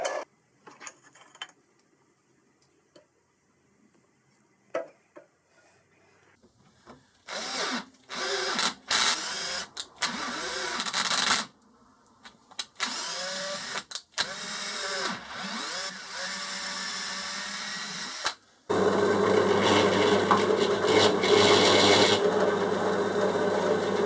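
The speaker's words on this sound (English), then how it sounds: "now I'm drilling through the steel bar using the 5mm hole in the" A drill bores through a steel bar guided by a 5 mm hole in an aluminium block, starting with short bursts and then settling into a loud, continuous high-pitched grind near the end.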